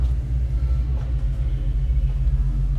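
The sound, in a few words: fuel-injected Porsche engine running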